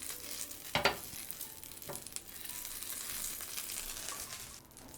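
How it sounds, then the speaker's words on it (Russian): Steady, soft crackling sizzle of butter in a well-heated frying pan, with a few louder pops and clinks early on; no talking. "Ставим сковородку, хорошо ее разогреваем. Немножко сливочного масла."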